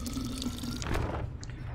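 Fresh water drips and trickles steadily in the video game Tails of Iron, a close, continuous liquid patter with a few brighter drops standing out, and no talking.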